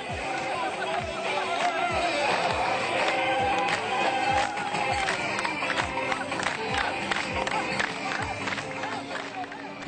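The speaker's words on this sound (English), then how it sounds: "We watched as the lean, muscular camels raced around the enormous track with the crowds cheering excitedly." A crowd at a camel race roars and cheers continuously, a dense wash of voices with rhythmic thudding running through it at steady loudness.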